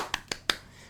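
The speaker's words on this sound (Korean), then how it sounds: "박수 한번 치고 갈까요?" Three sharp, quick hand claps close by, evenly spaced in under a second, with no voices.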